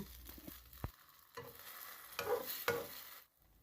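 Tofu pieces fry in a lightly oiled pan with a soft continuous sizzle, broken by a few spatula scrapes as the pieces are spread out, before the sound drops away.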